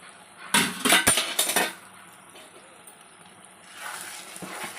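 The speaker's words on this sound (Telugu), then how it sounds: "ఇప్పుడు మనం ముందుగా వేపు పెట్టుకున్న ఈ రొయ్యలన్నీ దాంట్లో వేసేయాలండి." Fried prawns tipped into a pot of gongura pickle, giving a short burst of clattering metal-on-metal and dish clinks near the start, then quiet handling and a soft scrape afterward.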